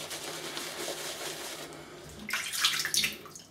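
Water runs from a tap to wet the tips of a Kevy Shaves shaving brush. The steady splashing stream grows brighter and louder near the end, with no talk.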